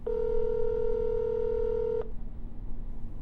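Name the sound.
telephone number being dialed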